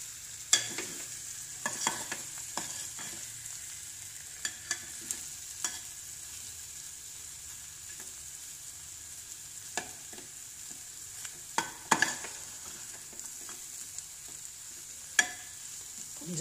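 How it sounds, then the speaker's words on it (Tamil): Egg gravy masala being slowly stirred in a pan: scattered soft scrapes and taps of a spoon over a faint steady sizzle, with no one talking. "மெதுவாக மெதுவாக அப்படி மசாலாலாம் சேர மாதிரி மெதுவாக கிளறி"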